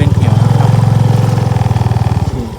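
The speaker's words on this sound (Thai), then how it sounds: "ตอนนี้เราขอขี่รถออกมาจาก จุดที่เรามานะครับ" A motorcycle engine pulls away on a narrow forest mountain trail, its loud, steady low putter close by and throbbing rhythmically before cutting off near the end.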